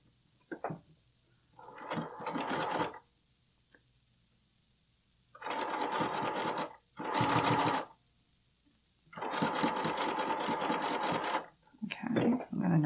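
Several bursts of a sewing machine stitching a bralette, the needle set to the outer edge to avoid the hardware, separated by pauses; steady whirring runs of one to two seconds, close and fairly loud, with no talk.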